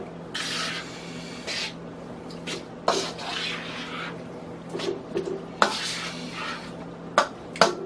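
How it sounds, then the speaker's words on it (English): Fettuccine being stirred in a pot with crab meat, onions, cheese and cream, giving soft scraping and sloshing strokes in irregular bursts with a few sharper clinks of utensil against the pot. "So right now we're just gonna stir this up here."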